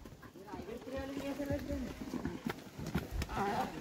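Donkeys carrying soil up stone steps to a hilltop fort, hooves clopping in an uneven rhythm close by while someone talks over them.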